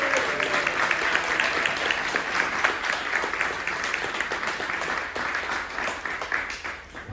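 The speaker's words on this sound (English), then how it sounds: "Come on, give her a round of applause now." An audience at a citywide community gathering on reparations in New York gives a sustained round of applause, a steady wash of many hands clapping that holds for about seven seconds and fades slightly near the end.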